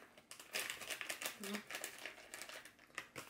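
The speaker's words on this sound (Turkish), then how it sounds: "Şimdi hemen paketi açıyorum. Şöyle hemen döküyorum paketi." Close crinkling and rustling of a paper-and-plastic packet of vegan rice pudding mix being torn open and its powder poured out, steady crackles with brief louder bursts throughout.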